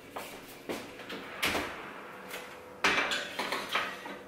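A metal muffin tray being slid into an oven, with a series of sharp clanks and rattles of metal on racks at close range and a louder thump near the end, with no talk.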